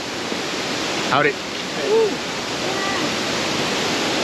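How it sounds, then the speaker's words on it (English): Epic waterfalls roar as a steady, loud rush of falling water, with a brief greeting spoken over it. "So we just got to these epic waterfalls."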